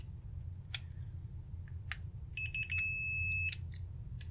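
A continuity tester gives a short, thin electronic beep against a low background hum, with a few faint clicks around it, quiet and close.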